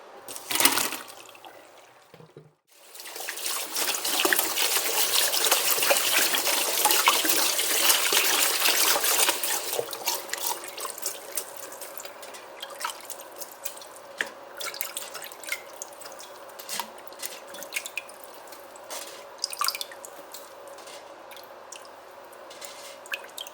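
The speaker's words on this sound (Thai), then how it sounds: "เราจะล้างให้สะอาดนะคะ" Wild mushrooms washed under running water: a loud, steady rush of water for several seconds, then scattered drips, splashes and wet handling that go on close by without any voice.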